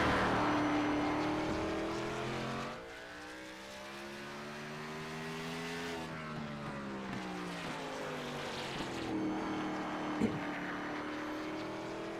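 A race car engine runs on track during a sim racing game at Martinsville, a steady buzzing drone whose pitch rises and falls through the short oval's straights and turns, moderately loud and continuous.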